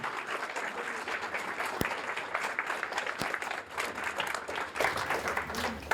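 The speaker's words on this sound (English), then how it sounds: "Let's give a huge round of applause, Wheaton round of applause for Shelby Van Pelt." An audience at an author event for Shelby Van Pelt in Wheaton breaks into sustained, dense applause, a steady wash of many hands with a couple of sharp louder claps standing out.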